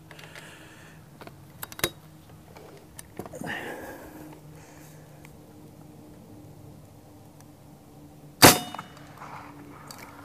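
A single sharp air rifle shot cracks out, loud and brief, with faint clicks and handling noises before it and quiet talk nearby; the pellet striking dirt 200 yards downrange is not separately audible.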